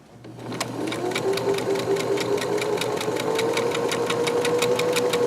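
A sewing machine starts up and runs at a fast, even stitch rhythm along a pillow seam, close and steady, with a mechanical whir under the rapid ticking.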